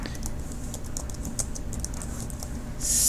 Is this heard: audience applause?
no